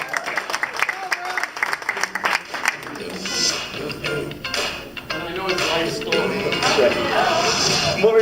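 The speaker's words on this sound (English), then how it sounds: "Let's give them a round of applause" An audience at a magic show claps for a volunteer, scattered sharp claps at first, then building into fuller applause, with people talking throughout.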